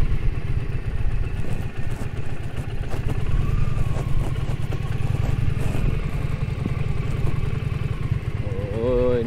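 A heavy Indian Challenger motorcycle weighing about 400 kg rumbles along a muddy off-road trail, its engine throbbing steadily and close by with clattering noises, and a rider's voice heard now and then.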